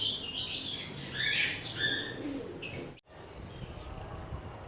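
A racing pigeon hen calls in a loft, giving faint, scattered bird calls against a quiet background, with a short dropout before the sounds fade.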